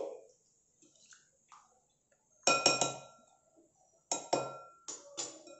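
A spoon clinks against a bowl while mixing dal with turmeric powder, giving faint scattered taps and then a few short bursts of quick, bright metallic clinks separated by near silence.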